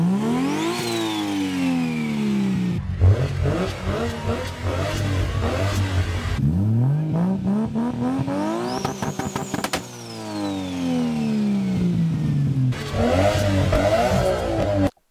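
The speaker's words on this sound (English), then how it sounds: "This car has an RB26 with a T51R Kai and sounds super satisfying." A Nissan R34 GT-R's RB26 engine with a T51R Kai turbo revs repeatedly, sweeping up and down in loud rising and falling pulls with sharp drops between bursts.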